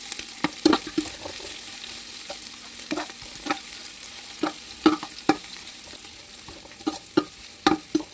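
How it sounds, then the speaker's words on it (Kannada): Onions fry in oil with whole garam masala, a steady soft sizzle under repeated sharp clicks and scrapes of a spoon stirring against the pan, close by and with no voices. "ಹಾಗೆ ಈರುಳ್ಳಿ ಹಾಕ್ಕೊಂಡು ಇದನ್ನು ನಾನೀಗ ಚೆನ್ನಾಗಿ ಫ್ರೈ ಮಾಡ್ಕೊಳ್ತಾ ಇದ್ದೀನಿ."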